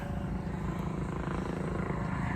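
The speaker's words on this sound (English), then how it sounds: "Look at this helicopter coming right over us too." A helicopter drones overhead, a continuous low rotor thump and engine roar holding steady and fairly faint, with no voices.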